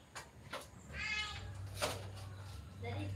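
A domestic cat meows several times, fairly close and moderately loud, with a person talking softly in between the calls.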